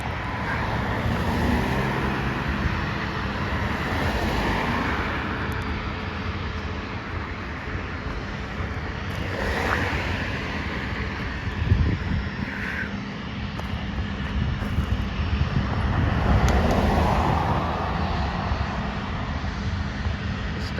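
A Southwest Airlines Boeing 737 MAX 8 takes off from Dallas Love Field bound for Kansas City, a steady, broad jet engine roar held at moderate distance for the whole stretch, with light traffic noise around.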